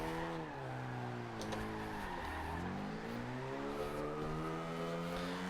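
A tuned Mini on tiny tyres in Forza Horizon 2 doing burnouts, with a steady revving engine whose pitch sweeps up and down beneath a continuous high tyre squeal, loud and close, no talk.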